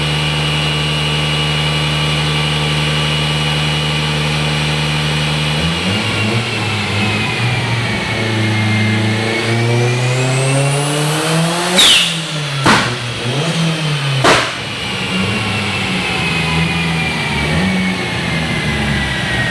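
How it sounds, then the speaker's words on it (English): An Evo 8 engine running on E85 with fresh plugs, strapped to a dyno: a steady loud drone climbs into revving sweeps with a couple of sharp throttle blips near the end, no talk. "A little bit of cruising on the dyno"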